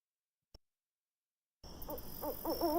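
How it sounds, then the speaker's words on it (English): An owl hoots as an audio clue in the Escape the Crate game: after a single faint click and a pause, a series of clear, repeated wavering hoots plays against a soft background hiss. "And then we also heard an owl at Toma."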